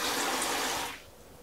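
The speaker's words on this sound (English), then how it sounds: "And a really nice mixer tap." Water runs from a kitchen mixer tap into a 1.5 bowl sink aboard a narrowboat, a soft steady hiss that stops after about a second.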